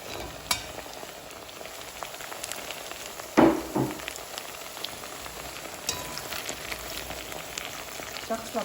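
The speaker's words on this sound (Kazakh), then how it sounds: "сәбіз жұмсарғанша қуырып аламыз" Sliced carrots fry with meat in a pan, giving a steady soft sizzle throughout with an occasional louder scrape or stir near the middle.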